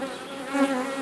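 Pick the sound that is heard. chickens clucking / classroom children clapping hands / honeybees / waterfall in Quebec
honeybees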